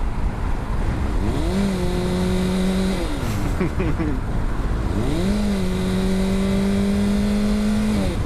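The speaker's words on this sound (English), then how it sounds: "the traffic is bad" Road traffic heard while riding a motorcycle through heavy traffic: engines rev and drop in pitch in two long sweeps over a loud, constant roar of wind and road noise.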